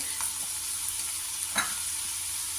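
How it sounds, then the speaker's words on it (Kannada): Curry leaves frying in hot oil for a ridge gourd palya, a constant close crackling sizzle with a single sharper stir or scrape near the middle, no talk. "ಕರಿಬೇವು ಹಾಕಿದ ನಂತರ ಇದು ಚೆನ್ನಾಗಿ ಫ್ರೈ ಆಗಬೇಕು"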